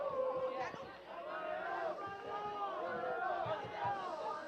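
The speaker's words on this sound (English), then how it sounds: "the Viking crowd is really into it" Viking fans in the stands at a college soccer match against Graceland, a lively crowd murmur of chatter and raised voices with scattered shouts rising and falling steadily throughout.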